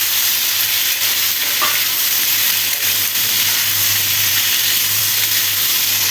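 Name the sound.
potatoes frying in a pan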